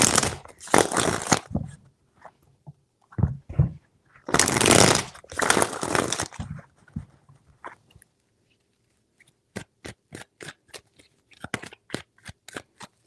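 Tarot cards are shuffled by hand in rustling bursts, followed by a run of sharp, evenly spaced card snaps or taps near the end; no voices.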